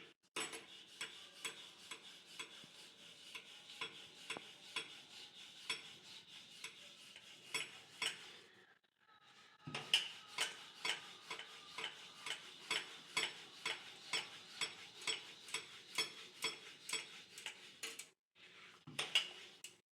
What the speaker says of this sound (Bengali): বড় করে একটা রুটি বেলে নিয়েছি।